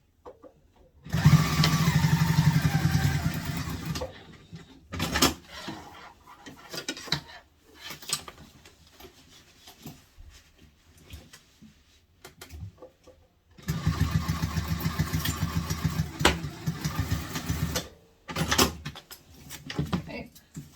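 A sewing machine bastes backpack panel pieces in place, running in two sustained bursts of rapid stitching separated by quieter gaps of handling and brief spoken comments.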